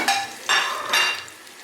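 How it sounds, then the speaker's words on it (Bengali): Cardamom pods and cloves hit hot butter in a pan while making paneer butter masala, giving three loud bursts of crackling sizzle in quick succession with steady frying hiss between them. "তো বাটার দিয়ে দিয়েছি। এবার এর মধ্যে এগুলো দিয়ে দেবো, এলাচ আর লবঙ্গ"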